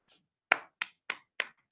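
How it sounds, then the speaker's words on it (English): Five soft, evenly spaced hand claps, a quiet and restrained golf clap, close by with nothing else heard. "I'm quietly golf clap applauding you."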